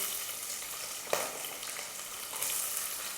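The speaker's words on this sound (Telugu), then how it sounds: "యాలక్కాయలు, మిరియాలు, లవంగాలు. ఇవి ఇలా వేగుతూ ఉన్నప్పుడు ఉల్లిపాయలు వేసుకోవాలి." Whole cardamom, peppercorns and cloves fry in hot oil in a pan, a continuous close sizzle with one brief stir or clatter partway through.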